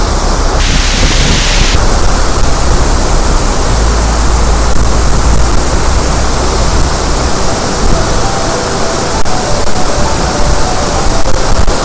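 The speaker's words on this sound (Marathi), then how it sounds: "धबधबा सगळ्यांच्या मनातला एक कोपरा आहे" Savatkada waterfall in the Konkan roars as a steady, dense wash of falling water, very loud and close throughout with no voices.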